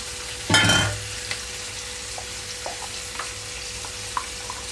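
Cut brinjal pieces drop into hot oil tempering with tomato, giving a loud sizzling burst that fades into a low steady fry, with a few faint clinks and scrapes of stirring after it.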